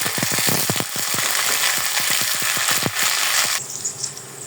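Onions fry in hot oil with ginger garlic paste, a loud, close, steady sizzle broken by rapid scraping and stirring clicks, with no talking.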